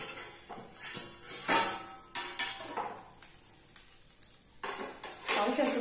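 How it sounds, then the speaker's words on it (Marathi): Lid being lifted off a cast-iron griddle of butter dosa and set down, producing several clanks and metallic knocks at irregular intervals, close and fairly loud, with quiet gaps between. "झाकण आता काढूया आपण"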